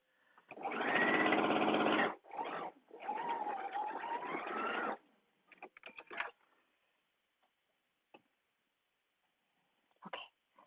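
A sewing machine runs through a dress side seam in two long bursts, close and steady with a short break between them, then gives way to scattered handling clicks and small knocks.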